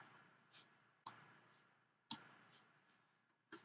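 Sharp, dry mouse clicks during a CAD drawing session, three distinct clicks about a second apart with faint softer ticks between, close and quiet with no talking.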